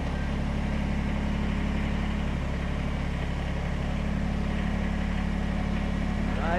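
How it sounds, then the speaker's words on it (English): A Kubota BX compact tractor's engine runs at a steady low idle while the machine creeps forward, a continuous close, even drone with no speech over it. "if you push real lightly on the pedal, you can roll ahead and it won't kill the motor"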